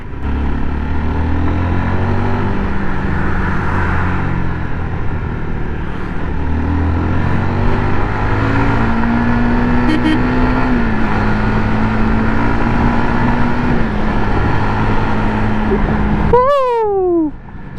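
A Honda Supra GTR 150 motorcycle with a 150cc engine hums steadily as it is ridden, with a low, loud engine drone that rises and falls in pitch with throttle changes, plus a brief sharp chirping sound near the end.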